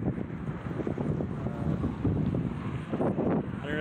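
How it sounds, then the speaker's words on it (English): Strong wind batters the microphone outdoors in a loud, continuous roaring rumble with gusty swells, with no clear voice over it. "I don't know if you can hear me, this wind is insane."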